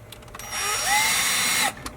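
A power driver with a Torx T15 bit runs a screw into an OBD connector under a Sprinter van dash, one short whirring burst of just over a second, fairly close and moderately quiet.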